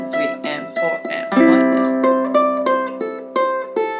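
A well-known riff is played on ukulele as a string of bright, crisply plucked notes in a steady rhythm, with sustained chords ringing through the middle, close and clear with no talk.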